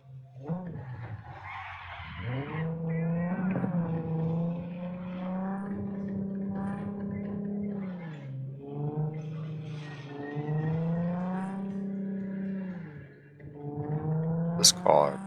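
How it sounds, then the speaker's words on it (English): An engine in a car in Cyberpunk 2077 revs up and holds a steady droning pitch, rising and dipping as the car accelerates through corners, with a faint tire squeal near the end. "This car accelerates nicely around corners."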